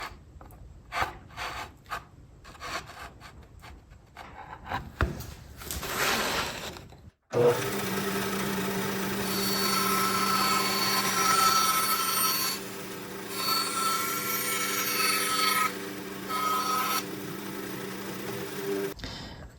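A power tool cuts a 9-inch-radius wooden crescent, pivoting on a pin. Brief handling knocks and rustles come first, then a loud, continuous whining drone runs close by to the end, dipping slightly midway.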